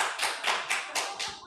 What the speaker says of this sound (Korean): 자꾸 박수 치지 마세요.